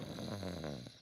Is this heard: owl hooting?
no